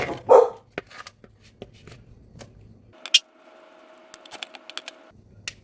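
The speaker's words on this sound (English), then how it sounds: "don't know why they're barking" A single dog bark sounds early on, followed by scattered clicks and tapping, with a faint tone and light clatter later.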